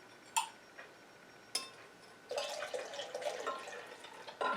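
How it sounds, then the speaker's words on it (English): Licorice root tea poured into oil while making a shea butter lotion: a few scattered drips and light taps, then a steady, close, soft splashing pour that runs for about two seconds and ends with a brief final splash. "I'm going to pour my licorice root tea"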